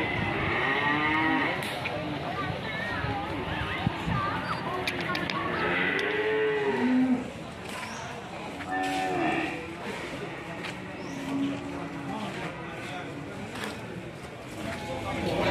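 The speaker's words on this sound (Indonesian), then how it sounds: "Ini sapi ganteng ini teman-teman." Cattle at a cattle market moo loudly several times, with long bellowing calls from close animals and others overlapping, amid crowd noise and someone talking.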